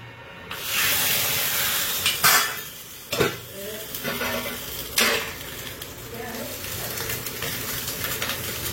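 Spices and curry leaves temper in hot oil for a Mangalorean-style chicken curry, a sharp burst of sizzling and hissing followed by stirring scrapes and a few more crackling flare-ups, close and fairly loud.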